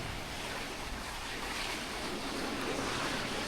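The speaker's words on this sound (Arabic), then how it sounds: "شوفوا المي كيف نازلة من هنا" A mountain stream rushes down beneath a swaying bridge in the Dolomites of northern Italy, a steady, loud, broadband roar of flowing water with no let-up.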